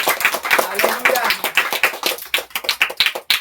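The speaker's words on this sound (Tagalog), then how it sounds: "Isang malakas na palakpak sa Panginoon." A church congregation claps loudly in praise, a dense run of rapid, uneven handclaps close by and filling the whole stretch, with voices mixed in among the clapping.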